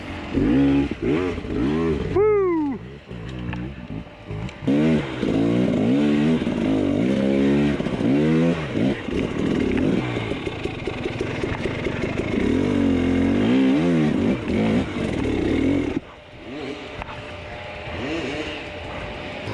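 An enduro motorcycle engine in a hard enduro race on rough cliffside terrain revs hard in repeated sharp bursts, rising and falling pitch between throttle blips, close and loud with brief drops near the end.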